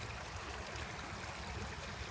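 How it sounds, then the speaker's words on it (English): Water trickles through a LifeStraw Mission gravity purifier, a faint, steady, even wash of running water with no breaks and no talking. "So I'm going to open the blue valve here. I'll just hold it here, see if you can see the water start flowing here in a second."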